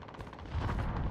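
Rapid gunfire from a firefight in Fortnite, a dense burst of shots that swells and continues without pause through the whole short moment.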